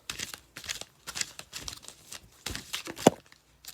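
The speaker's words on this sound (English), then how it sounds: "I'm going to do 3 more shuffles." Tarot cards are shuffled by hand in a series of soft, quick riffling and slapping bursts, close and fairly quiet, with one sharper snap near the end.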